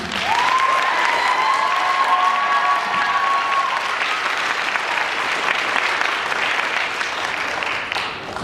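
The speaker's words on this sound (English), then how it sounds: "Give her a big round of applause" Audience applause after an Arangetram dance recital, loud, dense clapping sustained throughout, with a brief whistle-like tone rising early on.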